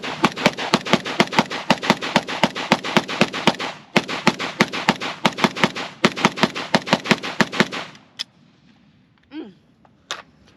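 A Draco Mini AK-47 fires rapid, loud, evenly spaced shots in long strings with brief pauses, then stops and leaves a quiet stretch with a few faint clinks and a sharp squeak.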